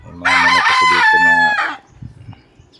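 A rooster crows once, loud and close, in a long drawn-out call, followed by a few soft clucks from the chickens.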